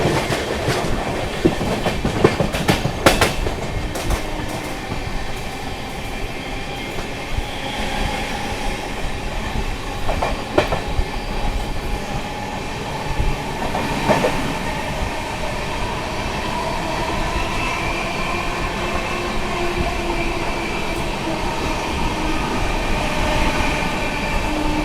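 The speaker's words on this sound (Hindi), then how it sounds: "दोस्तों ट्रेन अपनी स्किप करने जा रही है घामर" Amrit Bharat Express passenger train, Patna to New Delhi service, running at speed through a small station without stopping: steady loud rolling rumble with rhythmic clickety-clack of wheels over rail joints and occasional metallic clanks, continuous throughout.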